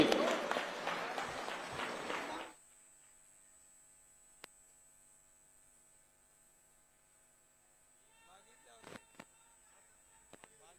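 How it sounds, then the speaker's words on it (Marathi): Crowd applause at a Shinde faction election campaign rally for the chief minister in Nanded North: a loud, dense burst of clapping for about two seconds that cuts off abruptly, leaving steady electrical hum and a few faint knocks. "जोरदार टाळ्या वाजू आपले लाडक्या भावासाठी"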